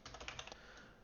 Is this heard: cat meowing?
no